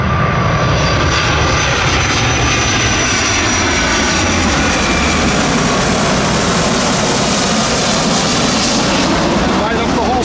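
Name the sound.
airplane flying low overhead at Rockford Airport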